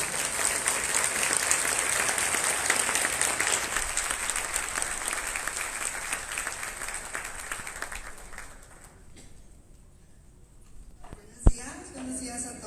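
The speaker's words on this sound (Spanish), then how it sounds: "Les quiero pedir que me acompañen con un fuerte aplauso" Applause fills a symposium hall on rheumatic pain as an audience welcomes a speaker, steady clapping from many hands that fades out after about nine seconds, followed by a brief thump and a voice beginning to talk.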